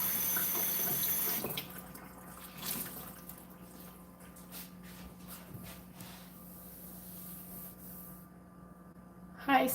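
Water runs from a kitchen tap while a kabocha squash pie is being made. A steady hissing splash is strongest at first, then continues softer under faint sounds of movement, with a brief clatter at the end.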